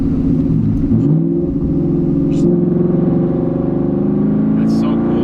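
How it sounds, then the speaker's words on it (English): A 2019 Ford Mustang GT with its V8 engine pulls steadily in third gear, a loud, close, sustained engine drone that builds gradually while someone talks over it. "If I just throw it into third right now without blipping the throttle"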